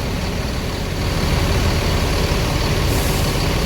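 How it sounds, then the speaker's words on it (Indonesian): A large intercity coach engine idles loudly and close by at a bus terminal in Palembang, a steady low rumble with a hissing high edge near the end. "Nah ini bus Prayogo dengan kaca beningnya."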